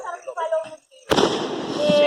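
Fireworks go off at a family party with a bonfire and roasted corn outdoors: after people chatter, a sudden loud burst erupts and trails into a crackling, hissing rumble.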